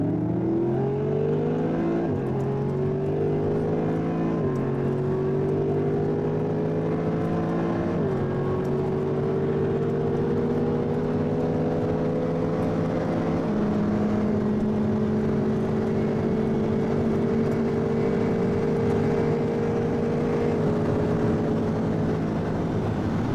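Ferrari 430 Scuderia accelerating hard from 50 km/h, its engine note climbing steadily through several gear changes with brief dips between shifts, loud and continuous throughout.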